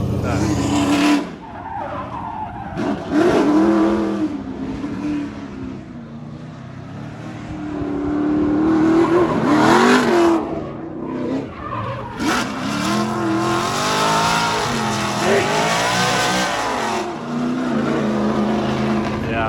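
A car accelerates hard and skids around the Freedom Factory track. The engine roars loudly and rises and falls, with squealing tires and sliding through most of the stretch, and voices talk over it.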